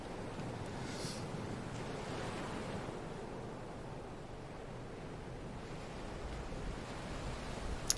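Ocean surf washing steadily in a video game, a continuous broad rushing hiss of waves with faint wind noise, fairly quiet and unbroken, a small splash near the end, no speech.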